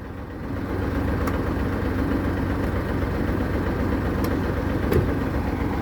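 Genuine truck tractor unit with an E13 engine and twin exhaust pipes idling, a steady low rumbling drone heard up close for several seconds with faint light clicks on top.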